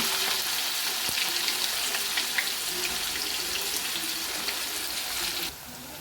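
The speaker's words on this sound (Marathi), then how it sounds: "कांदा असा छान परतून घ्यायचा आहे" Chopped onion sautéing in a pan with mustard seeds and cumin for poha, a steady, even hiss of frying close by, continuous throughout with no talking.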